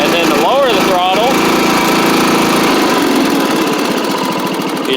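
A Craftsman LT1000 riding lawn mower engine runs steadily at lowered throttle, loud and close, with a voice talking over it at first.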